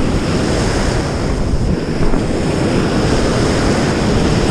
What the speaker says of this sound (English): you can see out there how there's waves forming way out there